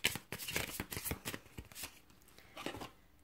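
Tarot cards are shuffled and drawn in a short run of crisp, close papery riffles and flicks that fade toward the end, quiet and without voices.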